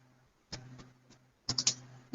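Computer keyboard keys being typed while entering a narration in Tally accounting software: a single tap, then a few scattered taps and a quick burst of three or four clicks, close and quiet.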